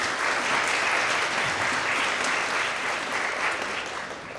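An audience applauds graduating international students at a university celebration, a steady wash of clapping that holds for several seconds and eases slightly toward the end, with no voices over it.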